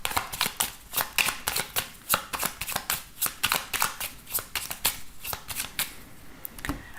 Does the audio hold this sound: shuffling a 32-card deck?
yes